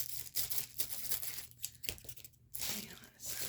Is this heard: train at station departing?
no